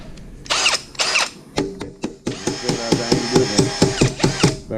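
A ten-year-old brushless Milwaukee cordless drill with a slipping chuck whirs in short bursts, then runs in a steady pulsing stretch at close range, with no talk over it.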